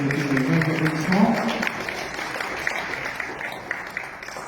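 Audience applause breaks out at a French competition presentation, a dense steady clatter of clapping that runs the whole stretch, with a voice talking over the start.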